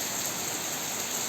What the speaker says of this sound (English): You can see this rain everywhere